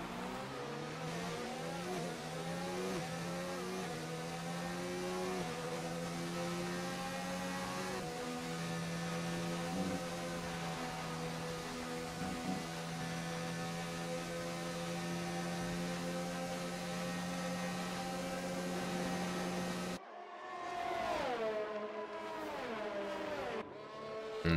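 F1 2019 race cars at the Belgian Grand Prix, one overtaking another with DRS: loud sustained high-pitched engine whine with rising and falling pitch as gears shift, dropping briefly near the end before revving again.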